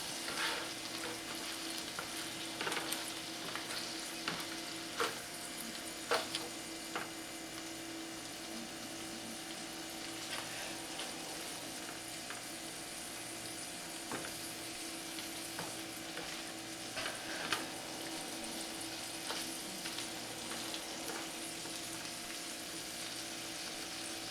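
Shrimp fried rice sizzles continuously in a hot pan while a spatula scrapes and stirs it with repeated clacks, close and steady with no talking.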